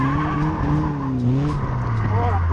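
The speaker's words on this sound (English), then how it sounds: "These things are so easy to drift, but I am absolutely terrible, as you can see." A Caterham drifts at Brands Hatch, its tyres squealing in long, wavering tones over a loud, droning engine, with the car close and the skid sustained throughout.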